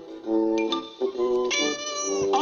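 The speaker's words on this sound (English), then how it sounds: "When Billy washed the cat" A cat meows and caterwauls while being washed, a loud, close run of several drawn-out, strained cries with short breaks between them, heard on a 1991 VHS home recording.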